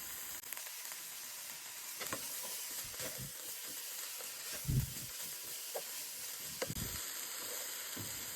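Vegetables sauté in a pan for a Korean bowl, giving a steady close sizzle and hiss with a few soft stirring knocks and clatters scattered throughout.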